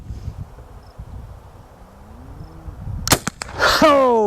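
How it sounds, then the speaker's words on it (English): A Whitney Kennedy lever-action rifle with a set trigger fires once outdoors, a sharp loud crack followed by a quick metallic ring off the target and a fading echo, after a stretch of quiet ambient noise. "Let's shoot a little lower."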